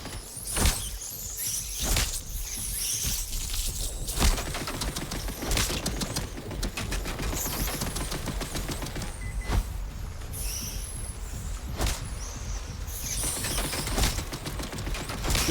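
Gunfire shooting rats in the video game Atomfall, a run of sharp repeated shots spaced irregularly over a dense rattling, clicking mechanical backdrop, close and fairly loud with no talking.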